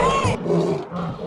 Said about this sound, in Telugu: ఏదో సింహం సౌండ్ వస్తుంది చూడండి